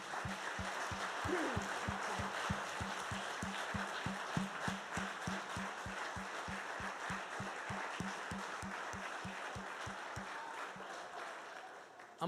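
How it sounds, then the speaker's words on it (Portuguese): Steady applause from a church congregation filling the room, with a rhythmic clapping beat running underneath until it fades at the end. "Dê um aplauso ao Senhor."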